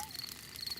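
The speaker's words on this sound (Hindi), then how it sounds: "ये कीड़ों की चींची आवाज है" Cartoon insects chirp at night in a Peppa Pig Diwali episode, giving a faint, thin, high-pitched trill over soft rustling quiet.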